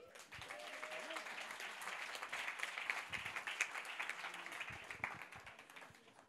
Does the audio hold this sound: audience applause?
yes